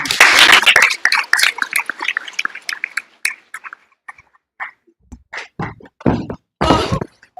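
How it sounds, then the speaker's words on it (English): Audience clapping at a live show, starting as a loud burst of many hands and thinning into scattered, uneven claps and thumps over several seconds. "Let's clap Josh back in"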